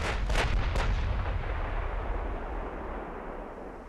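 Heavy naval guns fire a salvo in the warship game Ultimate Admiral, with several booming shots close together and then a long rumbling roll that slowly fades.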